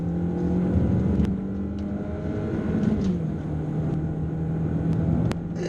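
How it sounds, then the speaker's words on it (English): Engine of a 2017 Kia Sportage while driving, a steady humming drone with a rise in pitch and revs partway through, heard from inside the cabin. "no doubt it is a powerful engine, but it doesn't sound refined towards the higher RPM range"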